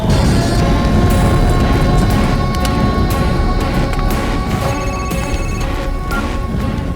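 A telephone rings steadily beneath loud, dense background noise and rumbling, with no voices.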